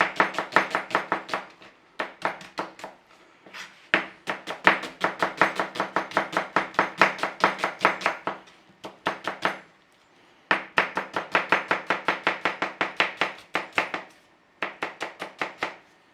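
A knife chops red onions into thin slices on a board, giving steady, rapid bursts of crisp taps with short pauses between runs, loud and close with no talking.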